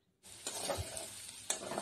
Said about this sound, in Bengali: হালকা নাড়িয়ে চাড়িয়ে ভাজা করে নিচ্ছি